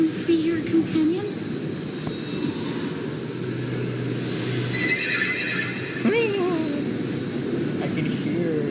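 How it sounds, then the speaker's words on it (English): Horse neighing in the video game Honkai: Star Rail, a whinny with rising and falling pitch heard twice over a steady rumbling game soundscape, fairly loud and close. "I can hear the giggling horse"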